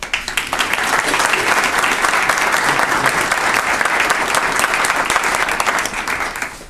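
Sustained applause from an audience at a university laboratory dedication ceremony welcoming the chancellor, a dense, steady clatter of many clapping hands that holds at full strength throughout before easing slightly at the end.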